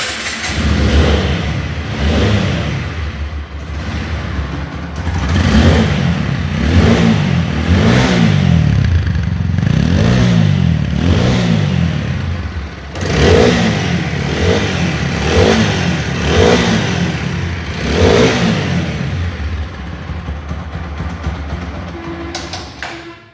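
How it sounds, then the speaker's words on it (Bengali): A used motorcycle engine runs close by and is revved in repeated surges, rising and falling against a continuous idle rumble for over twenty seconds, with no one talking. "এখন আমি আপনাদেরকে গাড়ির ইঞ্জিনের সাউন্ড শোনাবো।"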